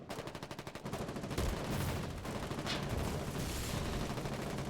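Gunfire in the war video game Foxhole crackles in a dense, continuous rapid stream with heavier booming shots mixed in, fairly faint and steady throughout.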